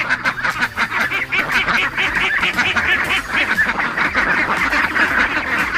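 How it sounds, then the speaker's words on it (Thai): Several Muscovy ducks call repeatedly at close range, a dense run of raspy, overlapping quacks and honking cries that continues without a pause, with no talk over the calling. "นี่แหละครับเป็ดมันหลาด"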